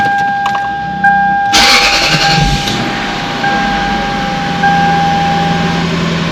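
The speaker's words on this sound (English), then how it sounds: "so I'm gonna start the car up." A Lexus SC430 engine cranks briefly and catches, then settles into a steady idle with a faint whine; loud and close.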